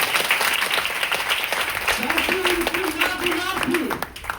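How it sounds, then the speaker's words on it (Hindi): Audience applause at a DXN product talk in a hall, a steady wash of clapping lasting several seconds, with a voice briefly audible over it midway. "जोरदार ताली में होना चाहिए"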